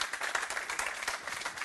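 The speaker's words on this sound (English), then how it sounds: "I think a big round of applause for a great presentation." A meetup audience of app builders in Zurich claps after an ARKit presentation, a short, fairly faint patter of many hands throughout.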